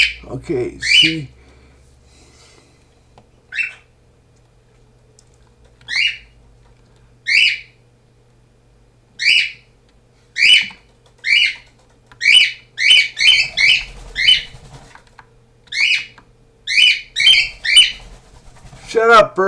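A pet bird whistles and chirps in a long run of short, bright calls, near and loud, repeating irregularly about every second; a person's voice and faint low background hum come in at the start.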